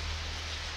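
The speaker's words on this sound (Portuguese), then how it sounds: "chuva linda" Light, fine rain falls steadily in the Serra da Cantareira hills near Mairiporã, São Paulo, making a soft, even hiss with no distinct drops and no voices.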